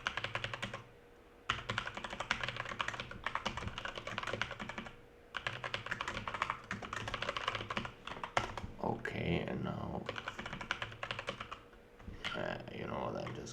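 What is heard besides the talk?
typing on a computer keyboard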